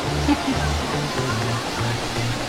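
Water pouring steadily from a fountain in Rome, a continuous close rushing splash with a low rumble, with faint voices in the background.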